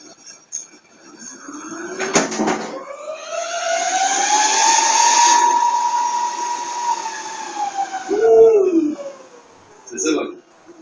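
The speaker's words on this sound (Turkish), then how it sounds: "Server'ımızı açıyoruz." A server powering on, its cooling fans spinning up into a loud rising whine that holds steady and then winds down, with a couple of clunks and a short voice near the end.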